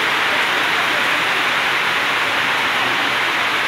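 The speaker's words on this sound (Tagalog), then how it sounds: "Oh, grabe yung lakas ng ulan guys." Heavy rain pours down steadily near an old bus terminal in Digos City, Davao del Sur, a dense, loud, unbroken hiss with no pauses and no voices.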